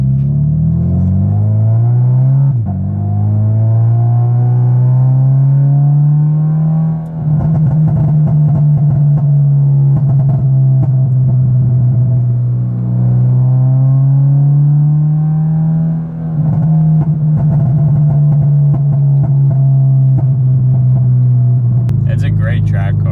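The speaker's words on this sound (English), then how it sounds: "we're gonna go ahead and see if we can get the car to pop" A modified Subaru BRZ holds a loud, steady high idle on launch control, its deep exhaust drone wavering slightly and broken by a couple of brief dips and crackles, with a burst of popping near the end.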